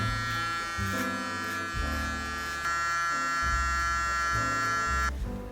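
A Panasonic electric trimmer buzzes steadily while cutting a full beard, its loud motor hum shifting in pitch as the blade is turned and swept upward through the hair.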